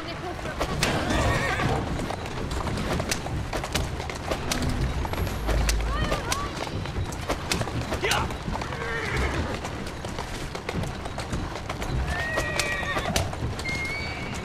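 Horse neighs and whinnies with clip-clopping hooves in the game Assassin's Creed Syndicate, set over a steady busy street ambience, with several loud whinnies spaced through the scene and voices talking in between.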